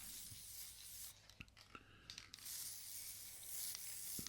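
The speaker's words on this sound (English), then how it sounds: "So I'm just spraying everything over now with some lacquer." A spray can puts a coat of lacquer over a scrap piece in short hissing bursts, quiet and close, with small pauses and light handling noises between sprays.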